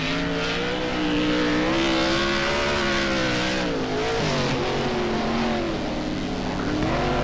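A sprint car with a big Chevy engine races on track, its loud, steady roar rising and falling in pitch over several seconds with no break.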